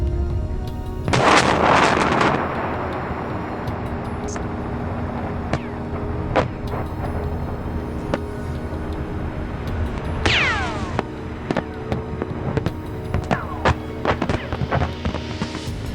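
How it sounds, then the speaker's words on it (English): An explosion equal in power to 100 tons, heard as a loud blast followed by a long rumbling roar that rolls on and slowly decays, with sharp cracks and debris-like pops scattered through the tail. "The second clip shows an explosion with the same destructive power of 100 tons."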